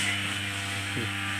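A brush cutter runs at a distance with a steady, droning engine hum, faint and continuous across the short stretch, with a slight wobble in pitch near the middle.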